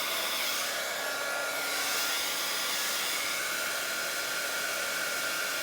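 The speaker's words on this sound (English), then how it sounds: "So we got the heat gun back." A heat gun blows hot air steadily while working on a cheese board, making a loud, even broadband whoosh that fills the whole span with no voices.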